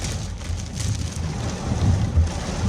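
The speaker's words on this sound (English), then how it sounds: "You could see the rain is literally falling horizontal." Heavy monsoon thunderstorm rain near Camp Verde, Arizona, driven sideways by howling wind, roars steadily and loudly close by, with deep rumbling low gusts surging and swelling throughout, and no voices.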